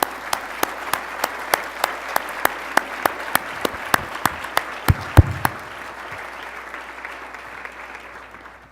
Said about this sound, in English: So a big round of applause to all of us and all of you.